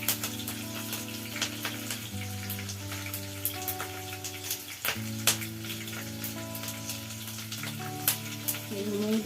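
Green chillies and mustard seeds sizzle in hot oil in a kadai, a steady close crackling hiss with popping ticks, set against soft tonal background music.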